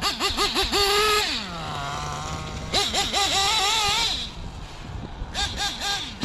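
A nitro RC truck engine screams across grass, revving up and down in rising and falling whines with a steadier lower idle stretch in between, loud and close throughout.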